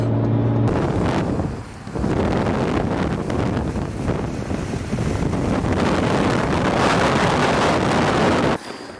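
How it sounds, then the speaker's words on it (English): Strong, steady wind roars on a freeway from inside a Miata with its top down. Loud broadband buffeting runs nonstop, with a brief dip near the start and an abrupt cutoff at the end. "Oh, the stresses of shooting on the freeway from a Miata with the top down. The wind."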